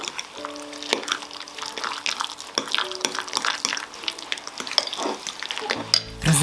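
Pulled pork being stirred with squeezed lime juice and salt, a close, wet, churning and scraping sound with a few sharper knocks, heard alone without speech.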